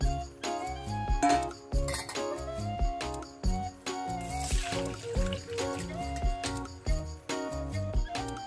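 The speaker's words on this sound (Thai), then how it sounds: "จากนั้นนะคะเราก็จะเทน้ำออกเลยค่ะ" Washing water is poured off cut potato pieces in a kitchen, with clinking of a bowl or dish and a trickle of draining water, plus light handling noises throughout.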